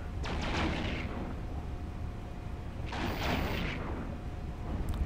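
Two heavy, booming blasts from a spaceship being destroyed in the space game Eve Online, one near the start and a second about three seconds later, each a broad roaring burst over a constant low rumble.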